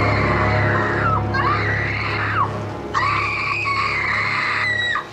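A woman screams in a slasher film scene in front of her psychiatrist. The screams are loud, wavering and sustained, breaking briefly before she resumes with another long cry.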